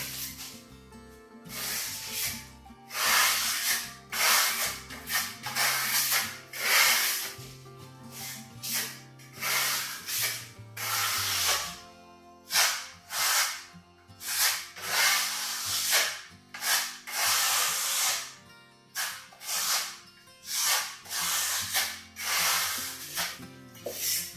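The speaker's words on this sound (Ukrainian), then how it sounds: "тепер беремо ще матеріал на кельму і розганяємо в різні сторони сам матеріал" Venetian trowel spreading decorative plaster across a wall for an accent finish, a steady rhythmic rasping scrape in repeated strokes, close and fairly loud, with no talking.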